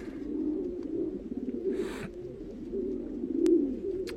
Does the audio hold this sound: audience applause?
no